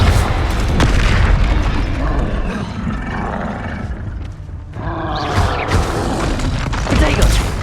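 Confringo fire-spell blasts in Hogwarts Legacy combat make dense, continuous booming roars and bursts that layer over each other without a break, loud and close, with shouted voices mixed in.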